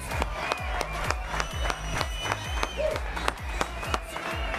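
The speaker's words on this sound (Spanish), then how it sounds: "Que se suelten los aplausos." A live audience applauds and claps at a boxing event presentation for Canelo Álvarez and Julio César Chávez Jr., a steady wash of clapping with sharp individual claps throughout, some crowd noise mixed in.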